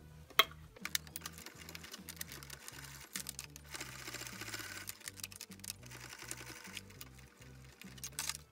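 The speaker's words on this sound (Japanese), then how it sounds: "両横にゴムを挟み込み、1センチの縫い代で縫います。" Sewing machine stitching a cloth face mask with elastic in the side seams, running in repeated short bursts of rapid needle clatter close up, with brief stops between runs.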